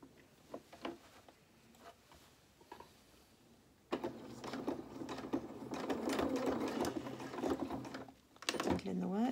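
A domestic sewing machine stitches a T-shirt dress seam near a sleeve, running in a steady sustained burst through the second half after quieter handling sounds, with a voice talking over it.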